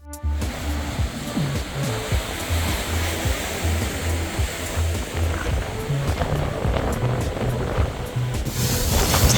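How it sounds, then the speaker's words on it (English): Blustery wind roaring across the coast near Herradura in southern Spain as waves break, a dense continuous rush with gusty buffeting throughout. "It got windy as hell and there were some proper waves."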